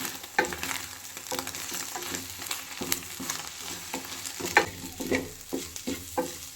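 Eggs stir-fried in a pan for roadside egg rice, a continuous close sizzle broken by repeated scraping and clattering strokes of a spatula, with no voices.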